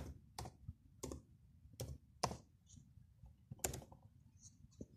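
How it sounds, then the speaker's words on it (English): Keys on a computer keyboard are pressed one at a time while a command is entered on a Cisco switch, six or so crisp, close, irregularly spaced clicks in a quiet room. "we are typing enable"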